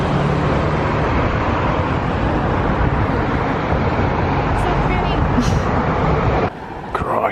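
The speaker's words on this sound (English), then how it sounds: "You got the vehicular traffic noises behind us because it is right by the road." Steady roadside traffic roar from passing cars beside a road on Kauai, dense and continuous, with a person talking over it until the noise drops near the end.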